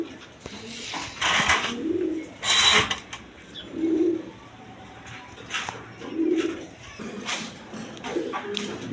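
A Rajgolla pigeon coos repeatedly, four or five soft, low, rounded calls spaced a couple of seconds apart, heard close, with a few louder bursts of noise in between.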